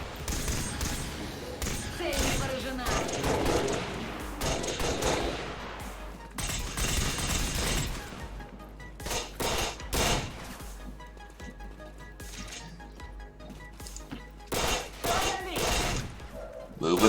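Rapid bursts of gunfire and heavy thuds from the XCOM: War of the Chosen video game, loud and dense with repeated volleys and some impacts, heard over game sound.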